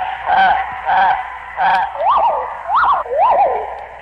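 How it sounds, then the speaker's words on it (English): Recorded bird songs from a 1950s–60s novelty record play as loud, close, repeated whistled and warbling calls with rising and falling swoops in a steady rhythm and no voices. "It's bird songs and nothing but bird songs that you're about to hear."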